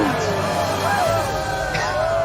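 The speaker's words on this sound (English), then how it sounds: "And the crowd goes wild." A crowd cheering sound effect played during a live online show rises as a continuous wash of crowd noise with whoops and babble, moderately loud and steady throughout.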